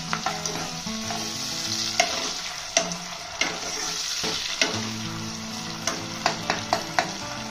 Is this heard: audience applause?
no